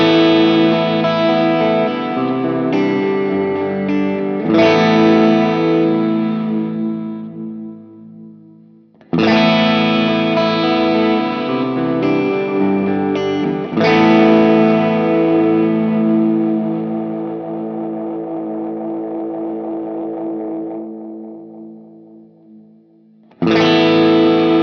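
Guitar run through a Strymon Volante tape delay and looper plays layered, repeating phrases with sustained echoing tails, stopping and restarting in loud bursts with brief gaps between.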